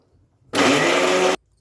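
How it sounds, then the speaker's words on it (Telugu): A mixer grinder churns sesame seeds and jaggery with a little water for chalimidi, one loud, steady burst of motor whir that starts and stops sharply between quiet moments. "కొంచెం గట్టిగా ఉంటే కొంచెం నీళ్ళు వేసుకొని మిక్సీ పట్టుకోవాలి"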